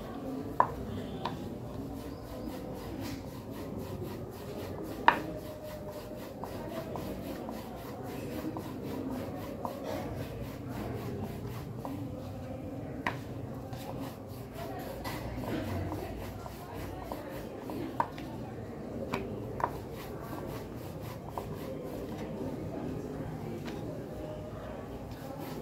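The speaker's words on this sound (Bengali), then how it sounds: "এবার আমি রুটি যেমন বেলে আমি এটাকে এরকম করে বেলে নেব, বেশ একটু বড় মাপের করেই বেলে নেব।" Soft wooden rubbing of a rolling pin pressing a portion of dough into a large round, a faint continuous shuffle with a few light knocks, with no talk.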